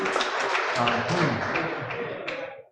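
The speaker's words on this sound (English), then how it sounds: "An applause for the Secretary as he takes his seat." Applause breaks out at a university student association inauguration ceremony as the Secretary takes his seat, a brief, dense clapping from a crowd that tails off at the end.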